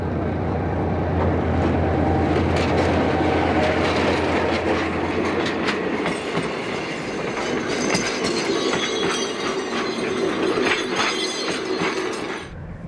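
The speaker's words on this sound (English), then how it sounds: "this train shows no sign of stopping or even slowing" A moving train in Sudan rolls along with continuous rumbling and rhythmic clickety-clack of wheels on rails, loud and close, with occasional metallic squeals and no talking.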